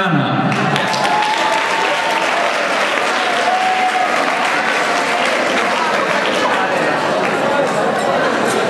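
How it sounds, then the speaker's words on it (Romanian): A big crowd applauds at a freshman ball, loud dense clapping that sustains evenly throughout, with faint chatter mixed in. "Aplauze, vă rugăm!"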